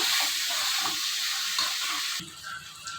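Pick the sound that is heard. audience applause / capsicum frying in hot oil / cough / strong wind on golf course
capsicum frying in hot oil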